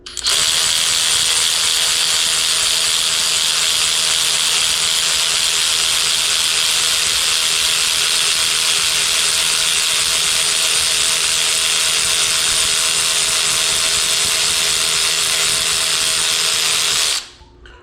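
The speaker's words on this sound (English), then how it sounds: "If I'm using this power ratchet, and I'm not going to tighten it down on anything, I'm just going to show you how quickly it runs something down" A Ridgid R866011 cordless power ratchet runs a 5-inch bolt down without load, one loud continuous high whir close by that holds steady for about seventeen seconds before cutting off.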